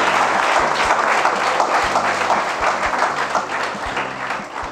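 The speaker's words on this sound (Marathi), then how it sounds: "त्याबद्दल जोरदार टाळ्या वाजवा." Loud, steady applause from a school audience at a motivational talk in Khothali, Taluka Shirol, filling the whole stretch with dense clapping and no voices over it.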